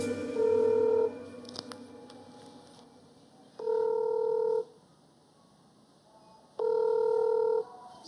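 A telephone rings unanswered in three long, steady tonal bursts spaced a few seconds apart, moderately loud against a quiet room with no talking.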